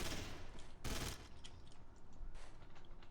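Rapid bursts of gunfire from the video game Garry's Mod, with loud overlapping shots that rise and fall in dense volleys, close and continuous throughout.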